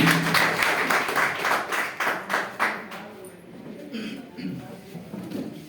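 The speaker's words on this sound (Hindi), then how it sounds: "जोरदार तालियों के बीच" An audience claps in a short burst of scattered applause at an indoor training session, tapering into a few isolated claps while someone speaks.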